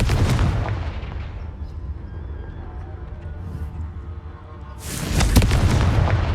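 A Confringo fire spell cast in Hogwarts Legacy: a heavy booming blast that decays into a long rumbling tail, then a second loud burst erupts near the end.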